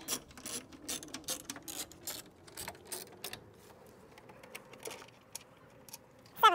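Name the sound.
ratchet removing screws from fuel pump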